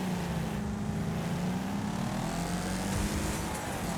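Steady engine drone of a car accelerating in the Wreckfest racing game on PS5, a loud, continuous hum with a rising tone across the whole stretch and no talking.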